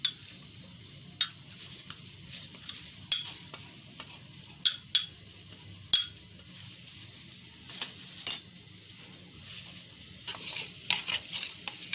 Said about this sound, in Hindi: ये मैंने इसमें आइसक्रीम पाउडर मिक्स कर लिया दूध में